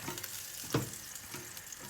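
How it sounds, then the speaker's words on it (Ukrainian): Halved pieces of food frying in a little oil in a pan, a soft steady sizzle with one brief clatter from placing them, faint and without talk. "І кладемо, хай вони тут смажуться."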